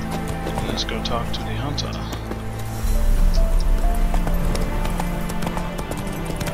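Horse hooves pound rhythmically at a quick gait in The Witcher 3 video game, layered under game music and ambient effects, while someone speaks over it.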